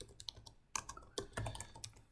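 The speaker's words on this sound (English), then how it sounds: "I'm going to type that in the chat right now." Soft, irregular clicking of someone typing on a computer keyboard, with clusters of quiet keystrokes and short pauses, close and faint.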